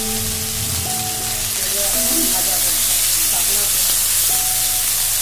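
Ground green banana and spice paste frying in oil in a wok: a loud, steady, dense sizzle runs throughout, with a voice faintly audible underneath.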